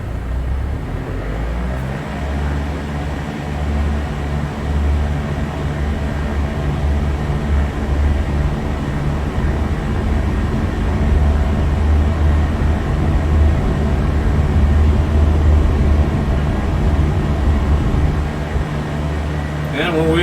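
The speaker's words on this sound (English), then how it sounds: "This is November 172 Sierra Papa Cessna 172 taking off from Lee Summit Airport" Simulated Cessna 172 engine droning steadily during takeoff from Lee's Summit Airport in X-Plane 11, a loud continuous low rumble that builds slightly, with a voice speaking over it.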